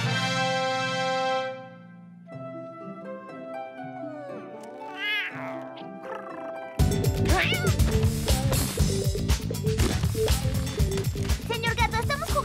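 A cartoon cat from the animated series Kid vs. Kat meows and caterwauls in drawn-out, pitch-bending cries over music and sound effects, growing louder and busier midway as the score swells.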